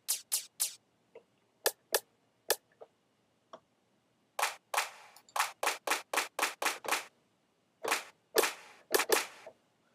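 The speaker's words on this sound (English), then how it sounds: "So there we have our claps." Crisp clap drum samples from a drum mix fire in sparse single hits, then a quicker rhythmic run of bright, snappy claps, loud and dry against silence.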